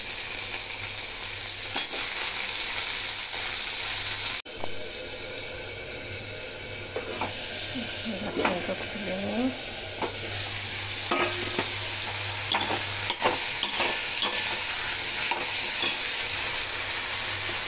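Potatoes frying in a pan for a sweet-and-sour long bean and potato dish, a steady low sizzle with occasional stirring scrapes and utensil knocks, close and moderately quiet, with no talking.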